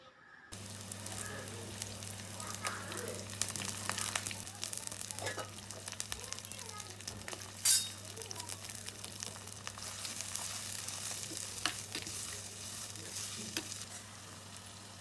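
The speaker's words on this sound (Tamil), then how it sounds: "2 பெரிய சைஸ் வெங்காயத்தை பொடி பொடியாக நறுக்கி வச்சுருக்கேன், அதை சேர்த்துக்கிறேன்" Chopped large onions and a sprig of curry leaves fry and sizzle in a pan for a Chettinad country chicken curry, a steady close hiss with stirring scrapes and clinks throughout, no talk over it.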